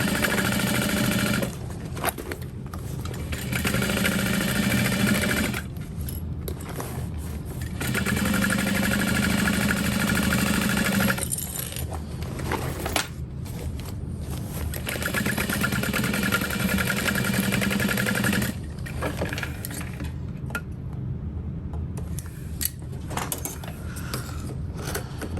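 A sewing machine basts seams on an Elora backpack, running in long steady whirring bursts of several seconds each, broken by brief pauses, close and continuous with no talking.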